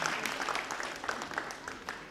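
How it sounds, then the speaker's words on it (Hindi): Audience applause at a Hindi-Urdu poetry mushaira in Delhi: a soft, steady patter of many hands clapping for about two seconds, fairly distant and quiet. "आप अपने लिए एक बार जोरदार तालियां बजाइए,"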